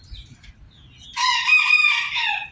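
Crossbred chickens call out, a loud close rooster crow rising out of near quiet after soft low clucking and rustling at the start.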